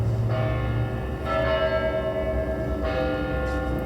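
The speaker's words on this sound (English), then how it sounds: "Well, this bell's about to just go on for like a minute." A church bell tolls the hour at three o'clock, its loud, resonant strikes arriving roughly every one and a half seconds, each ringing out and overlapping the lingering hum of the last.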